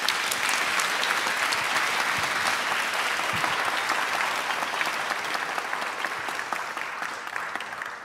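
A conference audience at a DeFi security summit applauds the panelists with dense, sustained clapping that holds steady for several seconds before slowly thinning toward the end.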